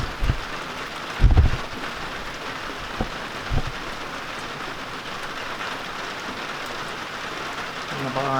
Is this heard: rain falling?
yes